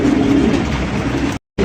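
Pigeons cooing together at a pigeon market, a dense, continuous low warbling murmur from several birds close by, steady for over a second before cutting off abruptly.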